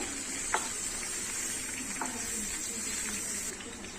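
Ivy gourd pieces, half a kilogram cut into long strips, fry in hot oil in a pan with a steady close sizzle and a few soft stirring scrapes throughout.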